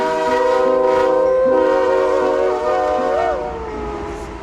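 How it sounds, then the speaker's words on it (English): A train passes close by while its horn sounds loudly, holding chords that shift in pitch as it goes, over a steady rumble of rolling cars. "There's a train coming."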